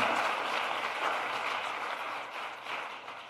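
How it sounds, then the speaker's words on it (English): Audience applause at a motivational speech event, a steady broadband wash of many hands clapping that holds fairly even for a few seconds, then tapers slightly toward the end. "give yourselves a round of applause"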